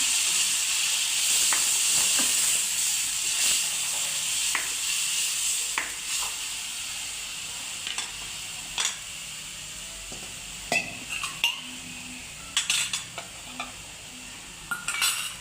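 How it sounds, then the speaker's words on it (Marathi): Green ground masala paste for tawa egg masala sizzles loudly on a hot tawa, a steady bright hiss broken by scraping stirring strokes, with sharper clinks and taps toward the end. "आता हे मसाला टाकूया, हिरवं वाटण केलेलं. मिक्स करून घेऊया."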